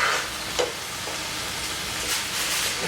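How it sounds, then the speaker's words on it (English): Potatoes O'Brien with onions and peppers frying in a pan, a continuous close sizzle broken by a few scraping stirs of a utensil through the food. "We want to make sure they're all cooked through, and just mix them all together"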